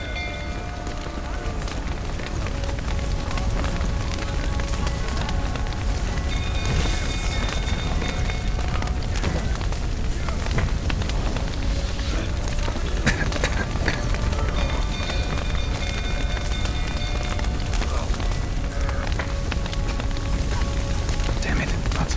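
A stable fire crackles and roars in The Witcher 3 video game, a dense, steady blaze with rain-like hiss and occasional low booms, mixed with tonal music and game sounds throughout.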